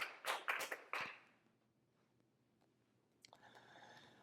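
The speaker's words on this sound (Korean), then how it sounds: "우리 하나님께 영광의 박수 돌리겠습니다." A church congregation at Sunday worship gives a brief round of clapping, several sharp quick claps in the first second that die away into near silence, then faint rustling.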